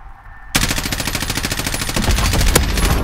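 Rapid automatic gunfire rattles without pause during a video game shootout, loud and close, starting abruptly after a brief quiet moment and growing heavier toward the end.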